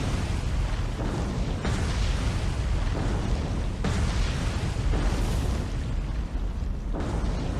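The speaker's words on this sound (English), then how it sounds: "Another explosion on the other South Dakota." Another torpedo explosion hits a South Dakota battleship in the World War II naval game War on the Sea. Loud, continuous rumbling blasts swell in several overlapping waves across the whole stretch, with no speech.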